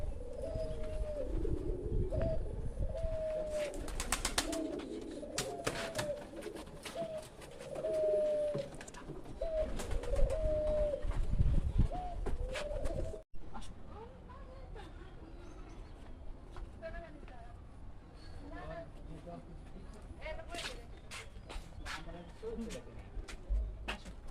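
Many kinds of pigeons in a park coo repeatedly in a steady rhythmic pattern, close and clear, with people talking at times and the cooing growing softer and more scattered later on.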